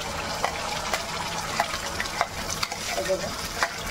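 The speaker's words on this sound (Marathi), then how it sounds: "कलर येईपर्यंत किंवा तेल सुटेपर्यंत आता फ्राय करून घ्यायचं आहे आपल्याला" Ground spice paste frying in oil for a Maharashtrian brinjal curry, a steady close sizzle with repeated soft scraping strokes of a spoon stirring through the pan.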